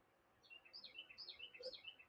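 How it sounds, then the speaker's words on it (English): A small bird sings outdoors, giving a quick series of high, bright chirps and trills, faint and somewhat distant against a quiet background. "Got a sweet little bird singing to me."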